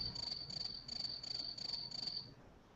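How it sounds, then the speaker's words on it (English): Cricket chirps used as a comedy sound effect, six even pulsed bursts of a high steady trill repeating in a regular rhythm, clear and close, then stopping. "We got crickets."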